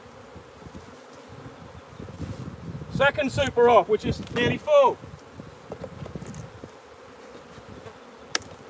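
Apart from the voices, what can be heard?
honeybees buzzing in open hive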